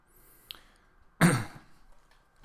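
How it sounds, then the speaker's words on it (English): A single harsh cough bursts out close by, brief and loud, set against a quiet room with a couple of faint small noises around it. "Sorry about the coughing."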